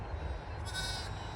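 A single faint, short bleat from a flock that includes a black-faced ewe and her three newborn lambs during spring lambing, heard at a distance over steady background noise.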